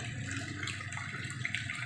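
Continuous rushing water in a drainage canal after days of rain, loud and close, a steady broadband flow with small splashy bursts, no speech.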